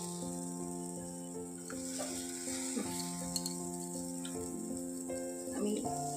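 Vegetables sizzle steadily in a pan over lowered gas heat, a continuous close frying hiss with occasional stirring clicks and light spatters throughout.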